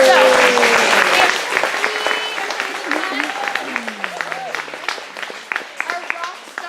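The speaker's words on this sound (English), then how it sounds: "give them big rounds of applause" An audience claps for the month's employees of the month: a dense, loud burst of applause that thins into scattered claps, with voices and cheers mixed in.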